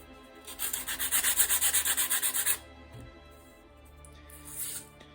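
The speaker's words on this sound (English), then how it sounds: "You can sand it now from here to make sure it's smooth and even." Sanding a glued wooden piece smooth for a hidden blade build: about two seconds of quick back-and-forth rasping strokes in a steady rhythm, close and fairly loud, then a quieter rubbing near the end.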